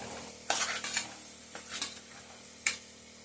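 Ridge gourd pieces stirred in hot oil in a pan on a stove, giving soft sizzling with a few sharp scraping and clinking bursts of a utensil against the pan, quiet and close.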